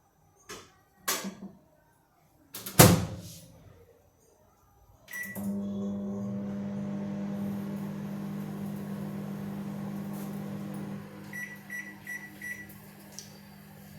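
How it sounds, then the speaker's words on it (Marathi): A microwave oven heats a one-bite pizza made from thokapuri for thirty seconds: a couple of door clunks and buttons, then a steady droning hum with a string of electronic beeps near the end. "हा जो माझा वन बाईट पिझ्झा तयार झालेला आहे हा मी ओव्हन मध्ये ठेवणार आहे तीस सेकंदासाठी"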